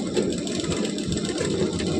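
A sewing machine hums continuously through a short burst of stitching, steady and close with no talking.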